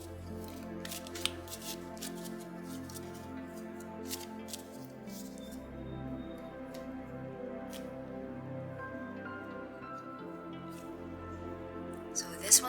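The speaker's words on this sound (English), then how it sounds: "So, let me just shuffle this one." Cards are shuffled in a steady run of soft riffling flicks under a low background hum, with a sharper tap at the end.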